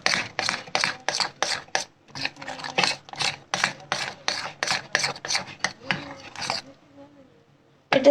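A thick milk mixture being stirred or whisked in a bowl, with quick, regular scraping strokes in a steady rhythm that stop near the end.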